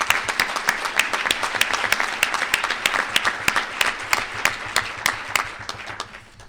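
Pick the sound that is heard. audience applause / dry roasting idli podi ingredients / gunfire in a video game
audience applause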